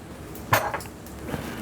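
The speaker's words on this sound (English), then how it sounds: "mix it in, and you want to just keep mixing it in, the pecorino, until it just gets nice and thick" Metal tongs clink and scrape against a pan while grated pecorino is tossed into cacio e pepe pasta: one brief, fairly loud clatter, then soft, faint stirring noises with no talking.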